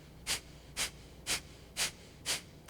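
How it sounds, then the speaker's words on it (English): Breath of fire yoga breathing: five sharp, quick exhales through the nostrils, evenly spaced about half a second apart, close and clear against a faint background. "breathe in these short, quick spurt exhales out our nostrils like this"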